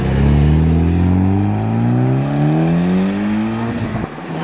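A tuned Mitsubishi Evo engine revs up hard nearby, its loud rising growl climbing steadily in pitch for several seconds before cutting off abruptly.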